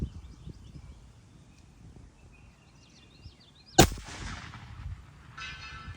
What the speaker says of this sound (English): I'm just shooting 1 mil to the left.